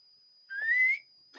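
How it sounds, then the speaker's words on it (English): A person whistles a single short rising note, fairly clear and close, over a faint steady high tone, followed by a brief noisy sound. "I intentionally whistled that time."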